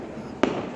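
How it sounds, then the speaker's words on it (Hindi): A single sharp firecracker bang during Diwali celebrations in Jhansi, a brief loud crack over quiet background noise. "इतने तेज आवाज़ में पटाखे चलाना अच्छी बात नहीं है"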